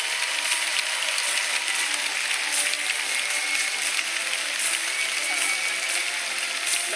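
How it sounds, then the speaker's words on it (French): A large crowd applauds steadily at a show-jumping prize ceremony in Lyon, a dense continuous patter of clapping that holds at an even level throughout. "d'entendre une nouvelle fois vos applaudissements retentir"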